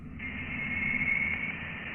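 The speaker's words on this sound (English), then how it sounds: "This is the sound of interstellar space." Voyager spacecraft plasma wave data from interstellar space converted to sound: a steady, continuous hiss and hum with a sustained high tone running through, holding level for about two seconds with no pauses.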